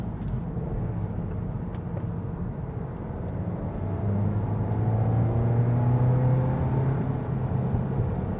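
A Volkswagen Mk8 GTI pulling hard in third gear at heavy throttle, a steady low engine drone that swells and rises in pitch midway, heard from inside the cabin with a constant road rumble.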